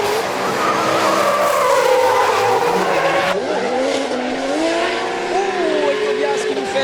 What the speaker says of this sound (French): Michael Lahaye très très rapide au volant de sa S14